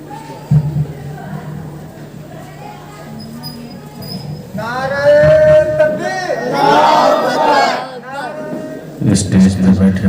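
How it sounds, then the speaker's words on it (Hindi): At a religious conference, the Hindal Wali Conference, a crowd chants slogans loudly in unison. A lead voice calls out over a low murmur first, and the massed voices surge in reply, in waves that rise and fall. "पूरा मन नारा लगाइए, नारे तकबीर, नारे रिसालत, हिंदल वली कॉन्फ्रेंस, नारे तकबीर"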